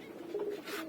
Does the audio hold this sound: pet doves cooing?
yes